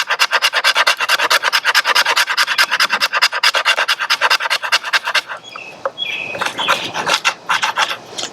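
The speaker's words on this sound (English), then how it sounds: "pretty decent spine there for scraping the fat wood" The spine of a small Old Timer Mini Pro Hunter pocket knife scrapes fatwood in quick, rhythmic rasping strokes, loud and close, about thirty in a row before slowing into a few rougher, irregular scrapes.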